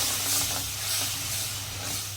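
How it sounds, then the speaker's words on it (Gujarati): A dal tempering sizzles hard when water is added, giving a loud, close hiss and steamy crackle that holds steady for the whole moment, with no voices. "ત્યારબાદ તેમાં આપણે થોડું પાણી ઉમેરી દઈશું."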